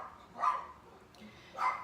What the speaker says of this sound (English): Excuse my little rat dog. He barks at everything.